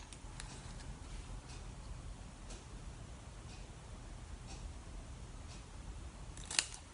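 Scissors snipping handmade paper card, a series of faint, evenly spaced soft clicks over a steady background hiss, ending with one sharper, louder snip.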